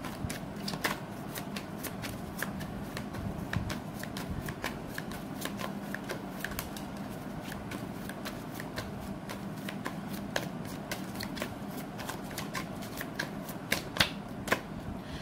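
Tarot cards being shuffled by hand, a continuous run of crisp, rapid riffling clicks and flutters, fairly soft and close, with no speech.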